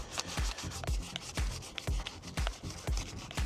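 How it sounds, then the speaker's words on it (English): Rubbing strokes of 320 grit paper by hand on a car alloy wheel, a steady back-and-forth scuffing repeated in quick regular passes, close and fairly quiet with no talk. "all we're going to do is just give it a very light rub down"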